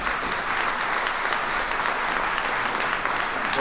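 Crowd at a Rassemblement National political meeting in Belfort applauds warmly, a loud, sustained, even roar of many hands clapping with no speech over it.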